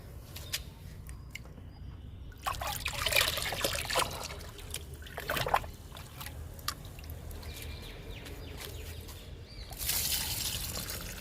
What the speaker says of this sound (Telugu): ఇప్పుడు జామ మొక్కకి లిక్విడ్ ఇద్దాము